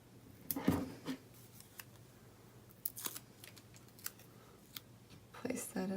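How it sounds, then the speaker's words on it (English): Scissors snip through aqua cardstock while a die-cut label for a crafting project is trimmed, producing a few quiet, crisp cuts with soft paper rustles close by. "I cut it from the Aqua cardstock."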